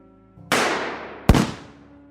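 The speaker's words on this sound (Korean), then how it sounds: "총소리와 동시에 폭발음이 퍼져나갔고" Two sharp blasts about three-quarters of a second apart, the second a deep, booming gunshot-like bang, each trailing off in a fading roar.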